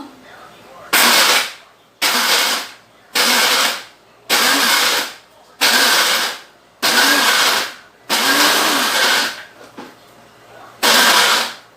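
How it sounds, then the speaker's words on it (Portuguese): A blender crushing biscuits roars in eight short bursts of about a second each, separated by brief silences, loud and close. "vai bater no liquidificador a bolacha"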